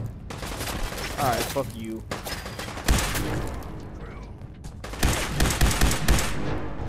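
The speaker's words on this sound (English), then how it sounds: "Where am I getting shot from?" Gunfire rings out in the video game Fallout 4, with bursts of rapid shots and sharp cracks over several seconds, loud and close, mixed with someone talking.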